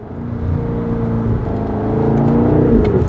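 A BMW X5 M60i SUV with a full valvetronic exhaust, valves open, rumbling loudly on overrun with a steady crackling burble, close up.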